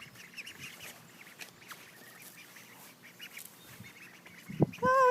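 Khaki Campbell ducklings give soft, scattered peeps and quacks near a pond, mostly quiet, with a sharper, louder call right at the end.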